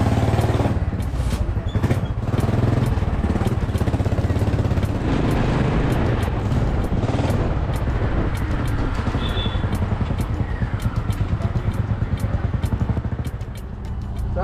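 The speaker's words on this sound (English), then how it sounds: "I'm in the rickshaw right now because Surya Hospital is very close, so that's the reason I've hopped into a rickshaw." Auto rickshaw engine puttering steadily during a short city ride, a loud, close, rattling drone with rapid clatter and road rumble throughout.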